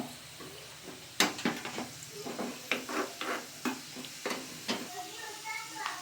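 Raisins fry in ghee in a pan for sweet pongal, a soft steady sizzle broken by a series of sharp scraping stirs of a spoon against the metal, fairly close and quiet.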